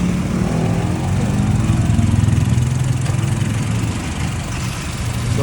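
Honda Civic 9th gen with the R18 engine running: a steady, loud, close mechanical drone with a low rumbling pulse that holds even throughout, no speech.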